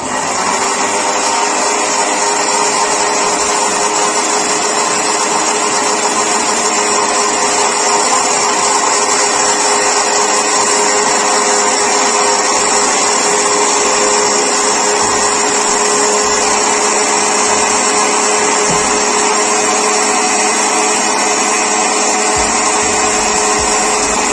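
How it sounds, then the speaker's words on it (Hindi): An electric grinder whirs loudly and continuously while grinding fresh mint leaves for a mint margarita, its motor holding a steady, high whine throughout with no talking. "अब इसको हम ग्राइंड करेंगे"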